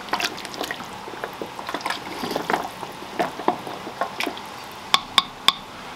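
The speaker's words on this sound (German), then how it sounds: "rühre das Ganze einmal um" Bone broth being stirred in a pot just off the boil, with liquid sloshing and swirling and a few light taps of the spoon on the pot, close and moderately loud, with three sharp clinks at the end.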